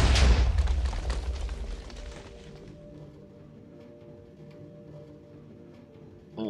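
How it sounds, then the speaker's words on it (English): TNT minecart explosion in Minecraft, a loud broad boom that opens the clip and fades over about two seconds into a low lingering rumble with faint tonal hum, then a brief sharp sound at the very end. "we've been having a problem with the TNT minecarts exploding you away from the massive death explosion"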